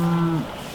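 A short, close, loud moo from cattle on a pasture farm, holding a steady tone before dropping off quickly, with no talk.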